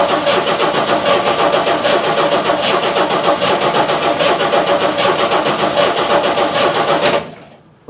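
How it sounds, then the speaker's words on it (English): An old engine that has not run in 30 years cranks continuously as the ignition is turned over, a loud, rapid, even churning that runs for about seven seconds before stopping abruptly. "I'm going to turn the ignition over, see if we got fuel coming out of here."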